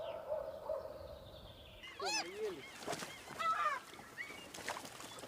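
Seagulls over a lake on the Valaam archipelago give a series of sharp, wavering calls, some close and loud, after a low murmur of background sound.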